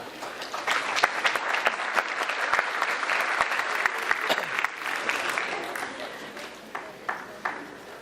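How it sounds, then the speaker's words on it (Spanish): A conference audience at an international workshop on market power regulation gives loud, sustained applause to welcome Dr. William Black, dense clapping from many hands that thins into a few scattered claps near the end. "Vamos a recibir con un fuerte aplauso al doctor William Black."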